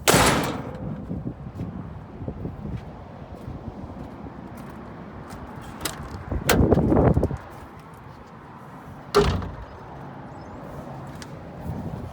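Cab doors on a 2014 Komatsu PC290LC-10 excavator opening and closing, heard as a few sharp latching clunks and thuds against steady outdoor wind and background noise.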